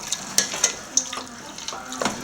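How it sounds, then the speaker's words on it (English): Close stirring of peas and water in a cooking pot for shepherd's pie, with a few light clinks and splashy swishes spread across a couple of seconds. "Mix it up nice and good."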